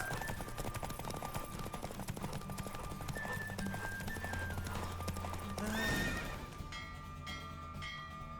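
Rapid hoofbeats of a galloping horse in The Witcher 3: Wild Hunt throughout, followed by a sharp neigh near the end as the pace breaks.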